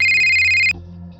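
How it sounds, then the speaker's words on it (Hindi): A loud electronic ringtone warbles in a rapid repeating pattern for under a second, then cuts off, leaving a low hum. "कुसुम का फोन।"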